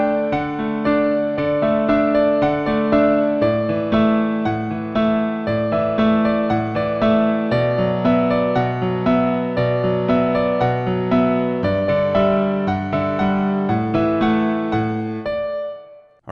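Solo piano plays a song at full tempo in an intermediate arrangement, steady chords and melody notes ringing clearly and close, ending as the last chord fades.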